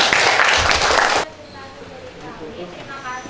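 A group in a university mathematics teaching-practice class claps in a dense burst that stops abruptly after about a second, leaving quiet room sound.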